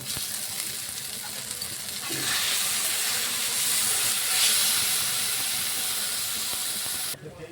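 Spice masala sizzling and frying in a pan as chopped tomatoes are added for katla fish kalia, a steady broadband hiss that swells around the second mark and holds loud before cutting off near the end.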